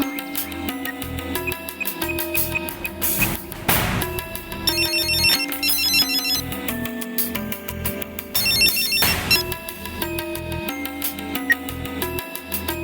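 A phone rings with a repeating melodic ringtone while an unanswered call goes through, playing steadily and fairly loud throughout with no talking.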